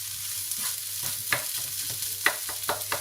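Vegetables and potatoes stirred and fried in a pan for spring roll filling, giving a soft steady sizzle with scattered scraping spatula strokes, close and moderately quiet, no voices.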